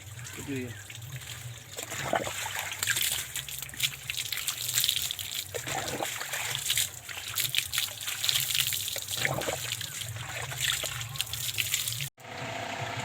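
Water splashes and trickles steadily as a child bathes on a very hot day, a continuous close wash of running, spattering water with faint voices underneath.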